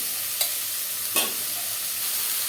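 Drumsticks fry with a spice tempering for sambar, a constant sizzling hiss broken by two brief scraping strokes of a spoon, close and alone without talk.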